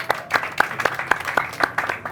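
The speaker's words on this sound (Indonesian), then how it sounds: "Boleh tepuk tangan lagi?" Sparse audience applause at an Indonesian car club gathering of Race Indonesia Club, Kijang Club and XLOW members, a few hands clapping in an uneven rhythm of distinct, fairly close claps for about two seconds.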